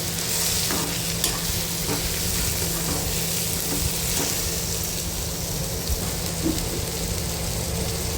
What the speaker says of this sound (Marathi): आता याच्यामध्ये टोमॅटो घालायचे आहेत टोमॅटोही परतून घेऊ आपण